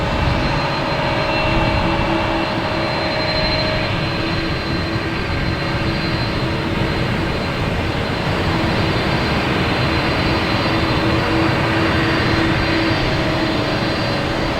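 A UPS Airbus A300 at Boston Logan Airport gives off a steady, moderately loud jet roar with thin whining tones running through it, continuous for around fifteen seconds.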